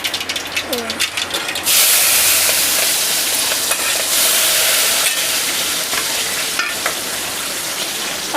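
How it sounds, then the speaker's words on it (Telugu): Mustard seeds crackle and fry in a thick, heated clay pot, with loud, dense sizzling broken by sharp popping bursts; a brief voice is heard faintly near the start. "ఆవాలైతే ఇక వేసేసుకుంటున్నాయి, చిట్టపట కలుస్తున్నాయి"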